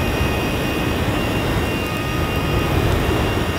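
A flamethrower fires a gasoline and diesel mix in a loud, continuous roaring whoosh of broadband rushing noise, steady throughout and close.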